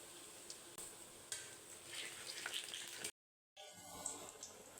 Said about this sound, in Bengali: আমি গরম তেলে দিয়ে দেব রসুন কুচি, দিয়ে দেব চিলি ফ্লেক্স